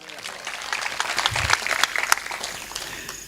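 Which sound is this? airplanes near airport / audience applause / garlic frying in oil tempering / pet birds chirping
audience applause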